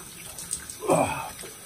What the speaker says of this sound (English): Now, here we go. Cold water.